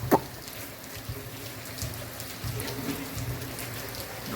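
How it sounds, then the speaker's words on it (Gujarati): Steady morning rain falls in a soft, even patter that stays quiet and continuous throughout, with a faint sharper drip or splash near the start. "સવારનો વરસાદ છે ને એક ધારો ચાલુ જ છે."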